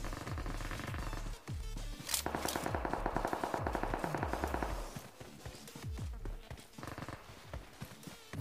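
Rapid bursts of automatic gunfire in BGMI (PUBG Mobile), a long sustained volley in the middle with scattered shots before and after.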